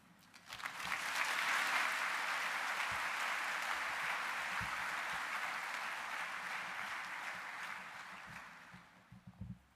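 Audience applause at a university orientation welcome, a dense sustained clapping from a large crowd that swells quickly, holds steady for several seconds, then thins into scattered claps near the end.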